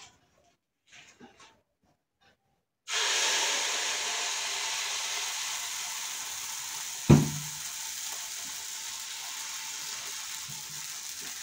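Oat and spinach pancake batter poured into a hot pan starts a sudden, steady sizzle after a few quiet seconds of faint handling noises, with one sharp clack of a utensil partway through.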